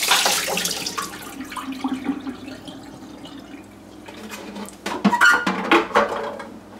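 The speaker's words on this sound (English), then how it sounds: "You need to empty the water from the base of the machine." Water poured from the base of a Homedics ultrasonic humidifier into a sink, a close splashing rush that fades to trickles and drips, then returns in a few louder gushes with light plastic clatter.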